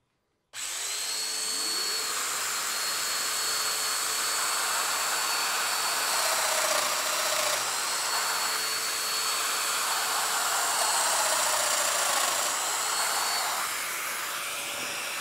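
A Festool Domino DF 500 joiner cutting a mortise in a mitred or butted frame joint, its high whining motor starting abruptly and running steadily and loud, with slight shifts in pitch as it bites into the wood.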